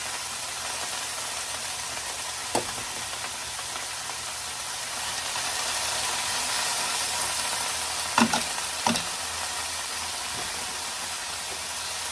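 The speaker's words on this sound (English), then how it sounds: "remember folks, you gotta stir this thing up. Okay, you don't want it burned." Cabbage with salted cod sautéing in a pan, a steady close sizzle throughout with a few sharp scrapes and clacks of stirring, no talking.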